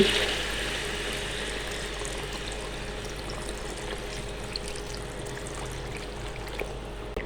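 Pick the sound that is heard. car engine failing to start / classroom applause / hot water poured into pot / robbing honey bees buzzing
hot water poured into pot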